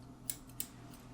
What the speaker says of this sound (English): you can use the blunt nose scissors